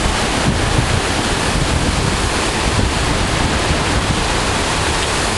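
Constant roaring Hurricane Katrina wind with heavy rushing rain, a dense unbroken wall of noise buffeting the microphone, with no pauses.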